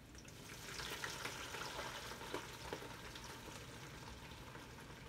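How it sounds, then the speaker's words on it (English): Hot water poured into a pan during cooking of chicken pancit canton over a slow flame, a steady soft hiss and bubbling sizzle with faint splashes, continuous and fairly quiet, with no talking. "I'll put a hot water."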